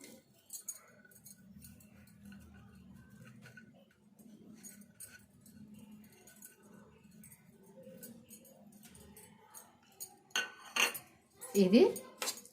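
Metal spoon scraping and clinking against a pan while jaggery is stirred into a melting syrup for laddus, a low steady scraping with louder clatter near the end.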